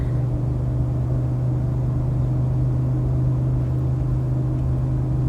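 A 2018 Ford F250 with the 6.2L gas engine pulling hard while towing, heard as a loud, steady low engine roar and drone inside the cab, unbroken and without talk.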